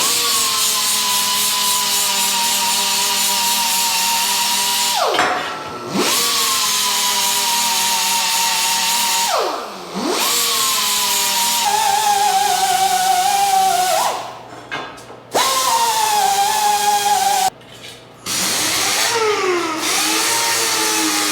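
A power sander working metal custom taillight bucket panels, a loud sustained whine that drops away in several short breaks as the tool lifts off and restarts, no voices.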